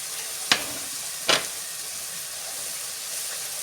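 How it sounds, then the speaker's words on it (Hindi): Masala with turmeric, salt and chopped tomato fries in a pan with a low, steady sizzle, broken by two sharp, brief bursts of hissing as it is stirred. "मसाला अच्छी तरह से भुन गया"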